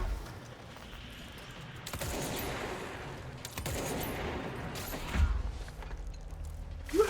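Video game gunfire with scattered shots and rattling mechanical clicks and creaks, moderately loud bursts at intervals over a low background rumble.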